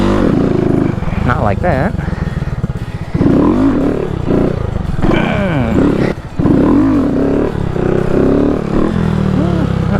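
A Honda Grom motorcycle engine revs in loud, repeated surges during wheelie loop practice. Throttle rises and drops between bursts, and a rider speaks briefly over it.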